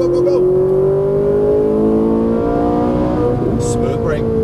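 A Ferrari 458 Italia engine accelerates at full throttle, a loud, close, rising whine climbing steadily in pitch, while a person speaks over it.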